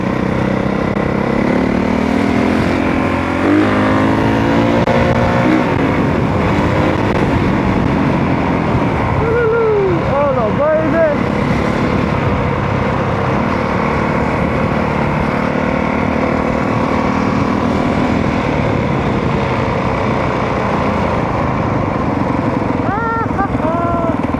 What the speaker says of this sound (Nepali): मेरो बाइक तातिसक्यो